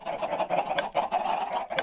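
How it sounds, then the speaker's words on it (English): Chickens on a Minecraft chicken farm cluck in quick, choppy bursts. The calls are steady and fairly close and fill the whole stretch, with no voices. "Chickens up there with some transparent blocks."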